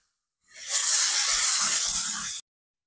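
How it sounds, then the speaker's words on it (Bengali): Tomato paste hits hot oil with fried ginger and garlic in a pan, bursting into a loud, bright sizzle that holds steadily for about two seconds, then stops abruptly, with no voices. "আদা রসুনটা ভাজা হয়ে গেছে, তো এখন দিয়ে দেবো আমি টমেটো বাটা"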